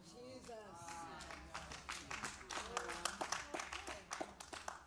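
Quiet rhythmic clapping from a church congregation during a sermon. It builds into a faster, steady beat beneath a voice speaking and the murmur of the room.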